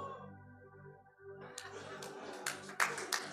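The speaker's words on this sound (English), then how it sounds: "Wait, that's not a place to clap." Congregation applause breaks out during a church sermon, a burst of many hands clapping that builds over a fading tonal background, with a few sharper claps standing out near the end.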